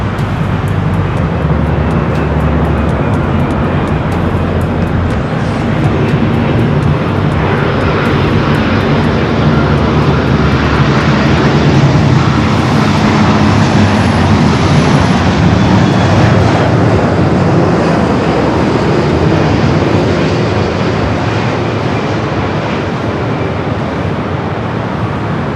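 Aircraft roar past at LAX airport, heard from a parking garage: a loud, continuous broadband jet rumble that holds steady for the whole stretch with no speech.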